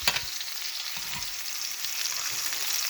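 A ribeye steak sizzles loudly and steadily in a pan while it is basted with thyme and rosemary, a dense crackling hiss with faint clinks from the basting spoon.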